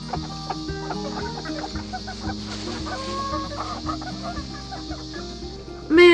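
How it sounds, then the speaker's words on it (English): Chickens on a farm clucking and chattering together close by, overlapping bursts of calls throughout, ending with one loud squawk. "I haven't seen any like excessive clucking or fighting or anything"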